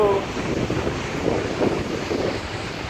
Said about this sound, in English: Not little, but as you can see, the runoff is pretty powerful.